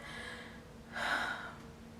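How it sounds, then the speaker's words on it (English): A single deep breath drawn in slowly, swelling softly for about half a second and fading; quiet and close, with no talking. "Take a deep breath."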